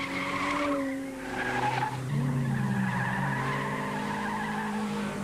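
A 1990 rally car slides through a stage with skidding, squealing tires, a continuous, fairly loud sweeping tone that rises and falls in pitch over several seconds of engine noise, with no talk.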